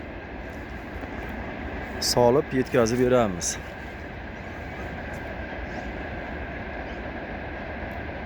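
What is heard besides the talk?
train passing on nearby railway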